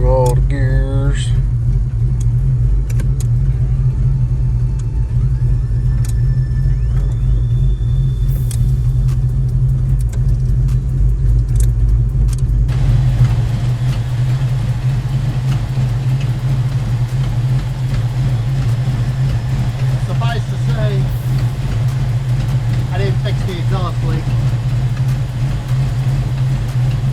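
A Ford Mustang Fox Body runs up through the gears with warm transmission fluid, producing a loud, steady engine rumble and road drone that continues throughout, while a person talks faintly now and then.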